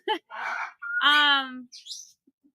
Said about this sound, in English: it's just a bird we're gonna love, hug, and squeeze